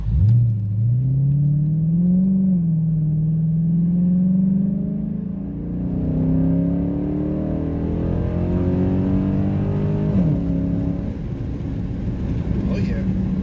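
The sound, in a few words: Chrysler 300C SRT8 engine revving with Corsa cold air intake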